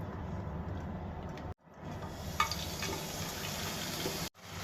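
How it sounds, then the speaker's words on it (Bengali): Cooking oil poured into a frying pan on the stove gives a soft, continuous liquid pouring sound over a low background hiss, interrupted by two brief cuts to silence. "ফ্রাই প্যান বসে দিয়েছি, ফ্রাই প্যানে তেল দিয়ে দেবো।"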